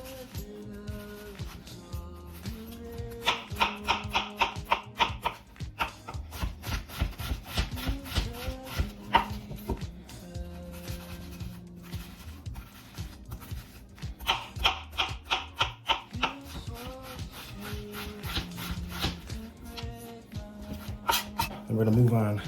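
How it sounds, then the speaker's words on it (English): A knife chops vegetables for Portuguese caldo verde, such as kale and potatoes, on a cutting board, in quick rhythmic bursts of close, crisp strikes that pause and resume, with a voice talking at times over the chopping. "let's get the chopping"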